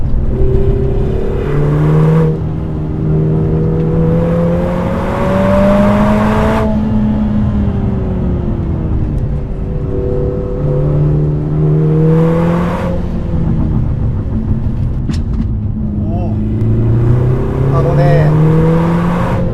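A Lotus Emira 2.0 in track mode accelerates hard along a winding road, its engine note climbing repeatedly through gear changes with a steady, droning rise, while someone talks over it.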